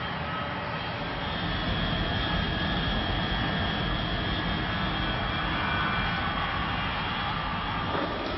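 Airplanes arrive in Thailand in the aftermath of the tsunami, their jet engines producing a steady, broad droning roar that holds at a constant level throughout.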